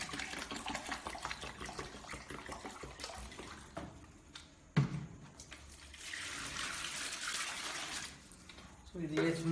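Water poured and swirled while rinsing out a container during cow-urine panchagavya preparation, a steady splashing trickle at close range that runs on and off, with a person talking over parts of it.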